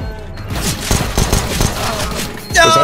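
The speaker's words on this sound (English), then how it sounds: "you were shooting a corpse" Rapid gunfire in a CS:GO match, a dense burst of loud sharp shots crackling for a couple of seconds, ending with a short ringing sound.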